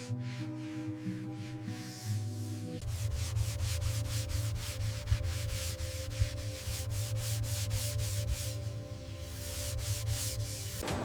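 A bamboo headphone speaker shell is sanded in a factory, a sustained rhythmic rubbing rasp over steady machine hum, close and continuous with no voices.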